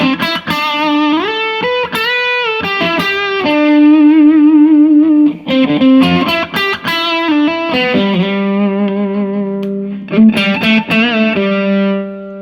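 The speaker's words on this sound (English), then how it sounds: "I like a little delay and reverb. Especially if I'm using distortion." Electric guitar soloing through distortion with delay and reverb, sustained singing notes and quick runs ringing out with echo trails, loud and upfront with no voices.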